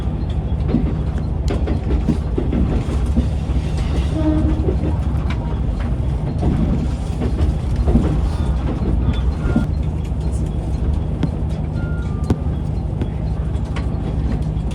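Yufuin no Mori limited express train rolls into Bungo-Mori station, a continuous low rumble with faint rail clicks and occasional squeaks, heard from on board as it slows, with birds faintly in the background.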